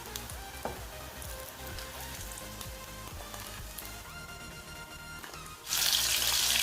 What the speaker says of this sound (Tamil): இப்போ செகண்ட் பேட்ச் போட்டோம்னா அதுவும் நல்ல ஃப்ரை ஆயிடுச்சு.